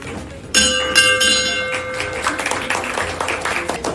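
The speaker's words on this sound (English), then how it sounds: "So ring the bell." A handheld bell rings out with a bright metallic clang, struck again about half a second later, its tone ringing on under cheers, clapping and voices from a crowd gathered indoors at a staff recognition event.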